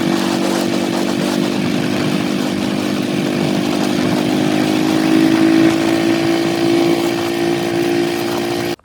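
A Bullet motorcycle rides to a farm field, its steady engine drone running loud and continuous for about nine seconds with a slight rise in pitch midway, then cutting off abruptly at the end.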